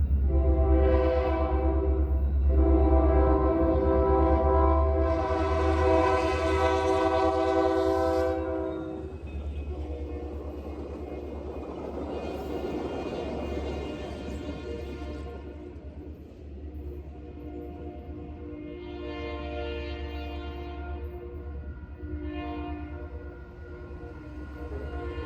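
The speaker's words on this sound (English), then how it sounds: "Well, this was one of the coolest trains to catch, and one of the luckiest catches I've ever had." An Indiana Rail Road special passenger train rolls past with its air horn blaring in long sustained blasts, loud and close at first, then more blasts further off as the train's rumble carries through.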